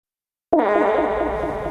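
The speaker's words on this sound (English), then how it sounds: "randomly I just put the fart sound effect in there with no context" A single loud, buzzy fart sound effect blurts out after a brief silence and holds steady, close and isolated.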